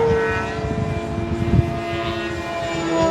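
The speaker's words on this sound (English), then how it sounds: "There's some 3D planes way down there in the distance over the pond." Several 3D aerobatic RC model airplanes fly far off over a pond at a large radio-control flying event, giving a continuous droning, whining engine hum with shifting pitch and no talk.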